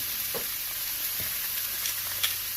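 Steak sizzling in a pan, a dense, steady hiss and crackle close up, with a few faint pops and soft ticks scattered through and no voices.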